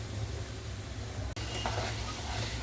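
Masala spice paste frying in a pan for a Bengali fish jhal, a steady close sizzle with a low hum underneath, broken by one brief dropout midway.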